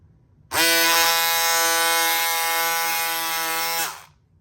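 Pink cordless electric scissors buzz steadily for about three seconds while cutting fabric, a single close, loud motor drone with no talking.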